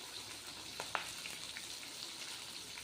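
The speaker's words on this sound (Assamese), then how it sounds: "এতিয়া মই তিতা কেৰেলাখিনি ভাজি আছোঁ" Bitter gourd frying in a pan on a home kitchen stove, a steady soft sizzle with a few faint ticks and pops, alone without talk.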